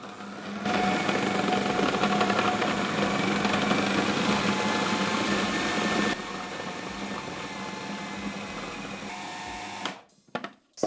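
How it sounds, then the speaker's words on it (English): A food processor mixes and kneads gluten-free vegan everything-bagel dough, a loud steady motor whir with a busy churning texture that runs continuously for about ten seconds before switching off and falling quiet. "So basically the food processor is going to do the mixing and the kneading for us."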